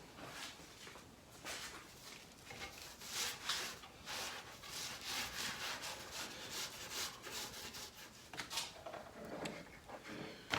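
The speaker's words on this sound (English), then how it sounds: "going to use some sawdust to pick up all of the" Sawdust is rubbed over glued wood to pick up excess glue, a faint, close scratchy rubbing in repeated strokes of uneven rhythm, with no voices.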